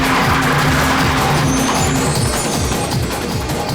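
A car drives fast during an action-movie chase, a loud, continuous engine roar with tires squealing and skidding, dense and close throughout, with no talking heard.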